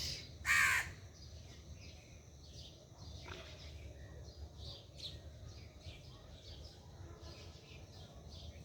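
Crows caw in the early morning seen from a balcony, one loud close caw at the start followed by fainter distant calls and chirps over a low steady outdoor hum.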